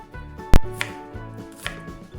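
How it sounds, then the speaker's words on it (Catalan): A knife chops onions julienne-style on a cutting board, with one loud, close strike followed by lighter, rhythmic cuts in a quiet kitchen. "Comencem pelant i tallant les cebes a juliana, més o menys."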